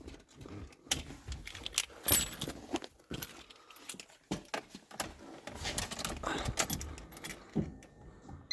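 A bunch of car keys for a BMW E36 jangles and clinks close up, rattling in repeated bursts in a garage setting, with no talking.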